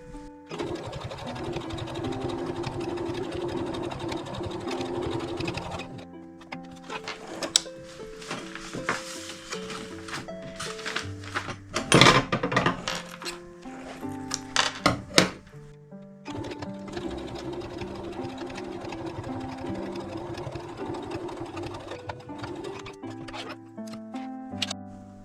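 A sewing machine stitches a three-zipper fabric pouch in bursts of rapid mechanical whirring, pausing briefly between runs, with handling clicks and rustles in a quiet room.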